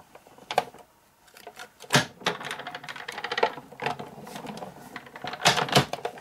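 A Big Shot die-cutting machine being cranked, rolling a cutting plate only partway through: a series of sharp clicking and ratcheting bursts with short pauses, close and fairly quiet.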